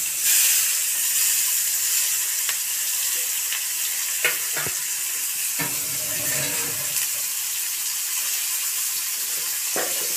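Chopped onion fries in a hot pan of oil for a shrimp and water lily stem curry, giving a steady, loud broadband sizzle with a few soft knocks of stirring.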